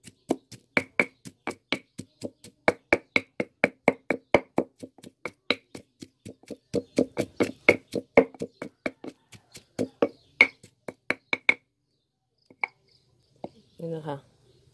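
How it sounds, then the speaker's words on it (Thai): Dried shrimp is pounded in a mortar for a Thai kaeng liang soup, with dozens of sharp, evenly spaced thuds in a quick steady rhythm that slow and thin out toward the end before a brief voice. "จากนั้นเราก็จะตำกุ้งแห้งนะคะ ตำให้เขา แหลกนะคะ"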